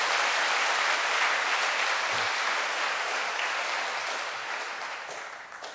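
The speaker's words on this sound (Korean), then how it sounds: "다시 한번 뜨겁게 여러분의 박수로 축복해 주실 수 있기를 바랍니다" A church congregation applauds warmly, giving dense, steady clapping that holds for several seconds before slowly tapering off.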